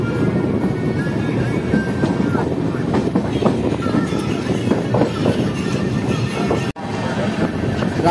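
The 11447 Shaktipunj Express creeps slowly through Andal junction, making a continuous close rumble with scattered clunks and knocks. Voices talk faintly in the background, and a brief dropout near the end.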